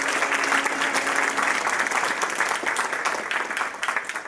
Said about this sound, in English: Round of applause for Dr. Vijay Prabhakar to put all of this together